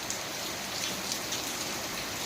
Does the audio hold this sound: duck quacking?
no